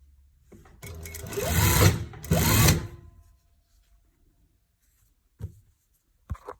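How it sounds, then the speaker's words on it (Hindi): Sewing machine running top stitching on a young girl's frock, two quick close bursts of rapid needle clatter, followed by quiet and a couple of faint clicks. "अब मैं इसके ऊपर ऐसी सिलाई लगा रही हूँ।"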